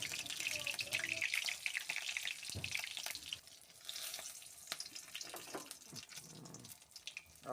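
Two dried red chillies, two bay leaves and whole garam masala of cloves, cardamom and cinnamon fry in oil for a Bengali chicken curry, a crackling, spattering sizzle that is louder early on and grows uneven, with scattered pops and knocks.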